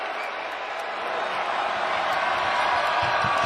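A packed basketball arena crowd during a tight Creighton versus Marquette college game: a loud, continuous roar that swells slightly and holds steady, with a few thumps beneath.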